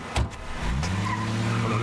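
A taxi cab pulls away from the curb; a brief tire scuff gives way to a steady, rising engine drone that carries on to the end, with no voices.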